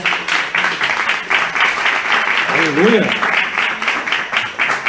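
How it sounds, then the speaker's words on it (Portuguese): Church congregation applauding a couple called forward during a sermon, steady clapping throughout with a voice speaking over it and a brief sung-out exclamation. "Uma salva de palmas para esses irmãos."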